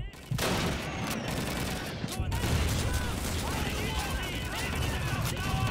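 Dense, continuous gunfire and scattered explosions from Call of Duty 2 on a Silo sniper map with mortar teams, loud and steady across the whole stretch, with a brief dip near the start and voices faintly mixed in.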